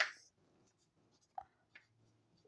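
Notes written on the side of a board during a physics lesson, giving a few faint scratchy marker or chalk strokes at close range in a quiet room.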